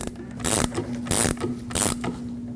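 A ratchet wrench tightening the rear shock absorber mounting nut on a 2020 Toyota Corolla, three loud bursts of rapid clicking separated by short pauses, with a steady hum beneath and no talk.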